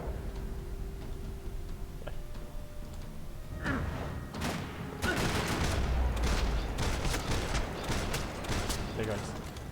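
Gunfire in the video game Max Payne 3, with scattered sharp shots and bursts that grow denser and louder partway through, mixed with other in-game impacts at moderate level.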